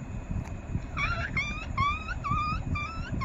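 A person imitates a puppy's whimper, voicing a run of short, high, wavering whines and yips in quick succession, close and fairly loud, with low background murmur beneath.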